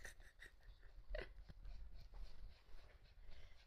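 Cannelle, a dog exhausted by stifling heat, pants and wheezes faintly in the background, a soft, rapid breathy rhythm with a small whimper, quiet and somewhat distant.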